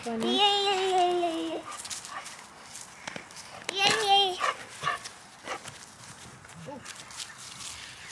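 Puppies yap and whimper in short bursts close by, mixed with a voice and adult speech during a Thanksgiving road trip, with footsteps and playful commotion around them.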